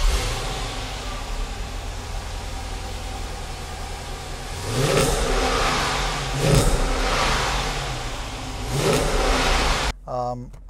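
Dodge Charger SRT8 from 2014 heard from outside, its V8 engine idling with a deep rumble and then revved three times in swelling bursts, fairly close, ending abruptly.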